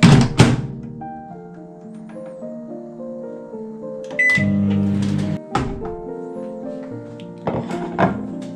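A microwave oven hums with a steady drone while reheating leftover fish curry, interrupted by close clunks and door thuds, with a few short beeps near the end.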